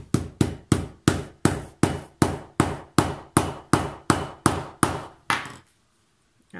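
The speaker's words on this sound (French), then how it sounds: "on va donner un petit coup de marteau." A hammer repeatedly strikes a snap setter tool while fixing a snap on a seamless card holder or coin purse, about thirteen sharp, evenly spaced close blows, followed by silence.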